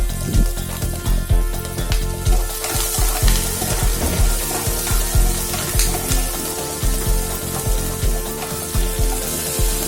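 Mustard seeds and urad dal splutter in hot oil in a pan, a steady loud sizzle broken by rapid crackling pops throughout, close up with no voices.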